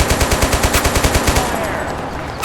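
Rapid automatic gunfire in a military video game rattles out in a steady burst of evenly spaced shots, then breaks off into a fading rumble.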